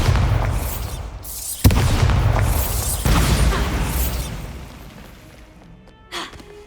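Explosive spell blasts boom in the Hogwarts Legacy game, several heavy bursts landing in quick succession, loud and close, with a sharp crack partway through and a final pop as the noise trails off.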